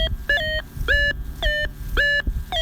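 A Whites V3i metal detector gives a steady series of electronic beeps, about two per second, loud and near with nothing else over them.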